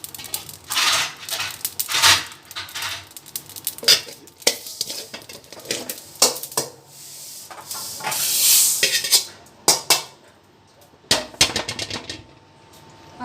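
Mustard seeds crackle and pop while dry-roasting in a pan, a burst of sharp irregular clicks and spits with metallic scraping and clatter as they are stirred, close and fairly loud, with no voices.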